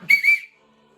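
A referee's whistle at a 2023/2024 Champions League football match between PSG and Newcastle gives a short, shrill two-part blast, loud and close, then cuts to near silence.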